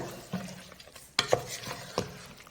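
Coriander paste is stirred into a sizzling goat head masala curry, with a spoon scraping and clacking against the pan in a few distinct strokes over a low steady fry.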